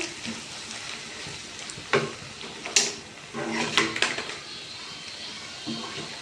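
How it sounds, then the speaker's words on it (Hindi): Chicken vegetable macaroni being spooned from a cooking pot into a serving dish, with a few sharp metal clinks and scrapes of utensil against cookware over a quiet kitchen background. "सर्विंग डिश में हम इसे निकाल लेते हैं।"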